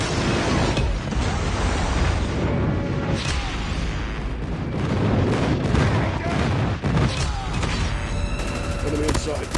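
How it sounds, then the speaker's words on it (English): Explosions and gunfire from a Call of Duty Mobile match fill the mix, with loud continuous booms and rattling shots under game voice callouts, as a predator missile strike and airstrikes land. "Predator missile inbound."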